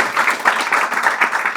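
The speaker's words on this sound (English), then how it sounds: "Give a big round of applause." A small gathering at a spiritual talk gives a short, dense round of clapping for a recited prayer, close and steady throughout.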